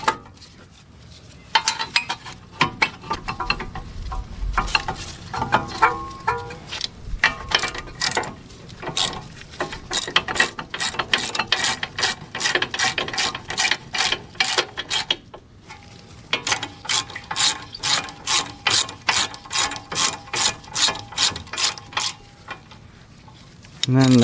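Rapid ratchet clicking in repeated bursts as bolts are tightened on a car caliper bracket during CV axle work on a Buick LaCrosse or similar GM 3.6 vehicle, close and crisp with brief pauses.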